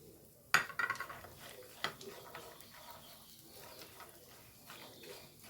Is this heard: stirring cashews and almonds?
yes